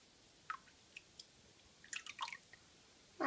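Liquid micro nutrient poured into hydroponic water for growing pok choi and lettuce: a few faint, scattered drips and small splashes, quiet and close, with no talk.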